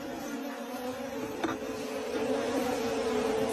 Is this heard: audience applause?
no